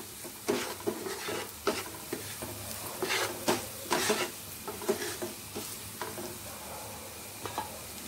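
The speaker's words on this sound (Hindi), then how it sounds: "और इसे थोड़ा सा स्टर करना है" Aloo methi sabzi seasoned with salt and coriander powder is stirred in a pan, giving quiet, irregular scrapes and soft clacks of the spoon over a gentle background sizzle.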